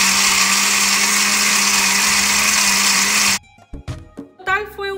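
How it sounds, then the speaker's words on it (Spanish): A blender blending salsa roja with a splash of water whirs loudly and steadily for over three seconds, then cuts off, followed by brief clatter and a voice speaking. "Para ayudarle un poquito a la licuadora a licuar"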